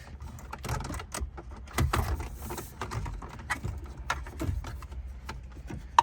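Small screwdriver clicks and taps while T20 Torx screws are backed out of the climate control and radio trim in a 2013-2020 BMW 3 or 4 Series cabin; irregular, close, quiet ticking with soft handling noises.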